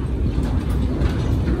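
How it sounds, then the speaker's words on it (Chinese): A narrow-gauge sugar factory train runs slowly between Zhuoshui and Xihu in Changhua, Taiwan. The low rolling rumble is steady and close, heard from on board with no talk. "那为什么这台火车会这么慢呢？"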